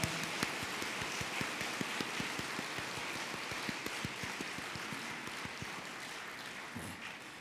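Steady applause from a church congregation at an ordination service, dense rapid clapping held at an even level for several seconds, slightly distant.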